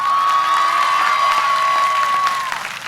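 A commencement crowd applauds and cheers for graduates' families and supporters, with a thick, sustained wash of clapping and shouts and a long piercing whistle running through, loud and continuous before tapering slightly.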